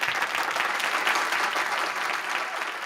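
Steady applause fills the clip, a dense, even patter of many hands clapping at moderate loudness throughout, with no break or voice over it.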